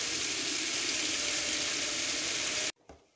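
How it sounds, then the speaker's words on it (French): Strong, steady tap water gushes for nearly three seconds over sliced fennel being rinsed in a kitchen, then cuts off abruptly, followed by a faint clatter. "maintenant je vais bien les laver sous l'eau courante"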